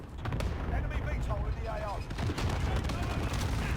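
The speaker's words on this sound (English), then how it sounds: "why are there so many explosions?" Rapid bursts of gunfire mixed with booming explosions from Call of Duty: Modern Warfare (2019), including a P90, dense and continuous, with a voice briefly audible underneath.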